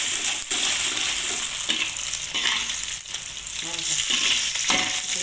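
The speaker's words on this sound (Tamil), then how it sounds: "இப்போ கொஞ்சம் இடிச்சு வச்சு நெத்திலி போடுங்க. நெத்திலி நல்லா அப்படியே கிண்டுங்க." Crushed anchovies sizzle steadily in hot oil, with a spatula scraping and stirring them through the pan, close and continuous for a spicy egg sambal.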